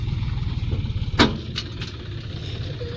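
A low tractor engine idles steadily throughout on a farm field, rumbling and chugging at a moderate distance, with one sharp knock partway through.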